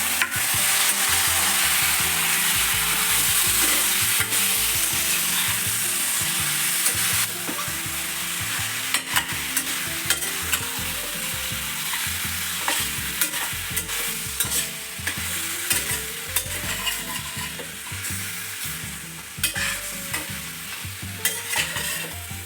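Mutton for a curry frying in a pan, a loud, continuous sizzle with constant rhythmic stirring and scraping of a spoon, close up throughout with occasional knocks against the pan.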